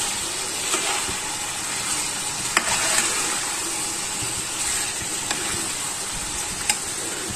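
Keema fries with soaked chana dal in a pan, giving a continuous hissing sizzle with a few faint clicks of stirring, steady and close.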